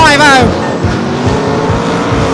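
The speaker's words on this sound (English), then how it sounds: "What a fantastic stock car race." BriSCA stock cars race around the Belle Vue track, engines roaring continuously with a tire squeal at the start, loud and close, while a commentator talks over the action.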